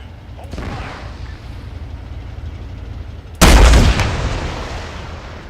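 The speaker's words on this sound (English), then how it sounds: "Load that rocket launcher and fire at will." Gunfire and a rocket launcher blast in ArmA: Cold War Assault, scattered distant shots followed by one sudden, loud, close boom that rings out and fades slowly.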